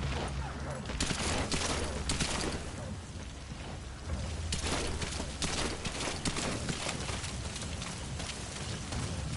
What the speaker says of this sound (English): now that the shooting started